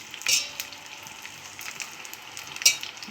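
Raw plantain slices dropped one at a time into hot oil, frying with a steady soft sizzle and a couple of sharper crackling bursts up close.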